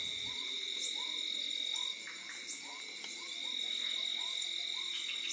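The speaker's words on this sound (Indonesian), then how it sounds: "Macam-macam sih kodok, ada suara yang jenis bukan kodok juga ada." Night chorus at a rural hut: repeated croaking frogs and other night creatures calling over a steady high insect drone, fairly close and continuous, with no talking.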